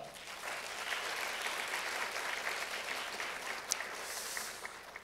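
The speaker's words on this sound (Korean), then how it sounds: "이 네 분께 박수 부탁드립니다." Audience applause at the opening ceremony of the 27th Bucheon International Animation Festival, steady clapping from a large crowd held at moderate level for the whole stretch, slightly distant in a hall.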